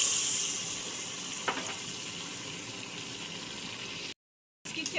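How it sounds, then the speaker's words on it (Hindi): Water poured into a pan of sugar for a syrup, a steady faint hissing wash of liquid that runs for several seconds with a brief dropout near the end, no voices. "1 कप पानी डालूंगी इसमें।"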